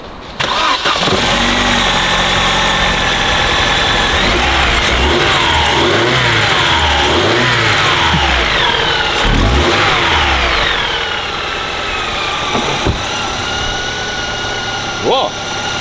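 A car engine runs after a repair of its snapped timing belt. It starts, then revs up and down several times in rising and falling swells before settling back to idle. Loud and close, with voices nearby.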